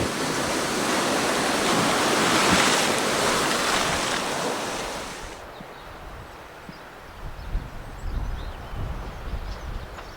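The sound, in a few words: wind on the coast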